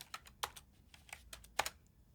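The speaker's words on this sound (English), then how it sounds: "We'll add some more text, and this time we want more than just one word, so let's type that now." Keystrokes on a computer keyboard as text is typed into a web design tool, a quick irregular run of light clicks, close and fairly quiet, with no voices.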